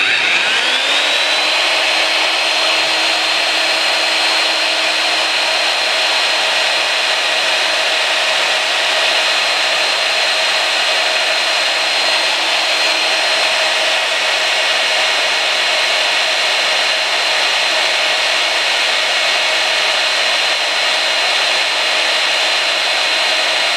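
A power drill bores into a stuck part on a locomotive, spinning up at the start into a loud, steady, high whine that holds unbroken for over twenty seconds with no talking.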